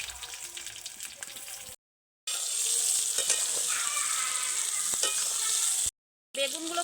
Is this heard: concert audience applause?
no